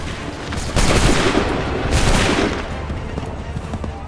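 A musket volley in Assassin's Creed III, a loud, dense crackle of many shots fired almost together, followed by a second sharp burst and a rumbling tail of smoke and echo.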